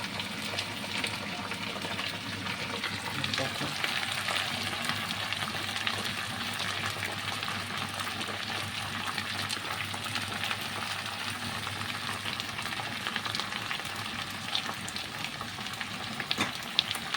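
Chopped onions fry steadily in hot oil, a continuous crackling sizzle with occasional pops, close and even throughout.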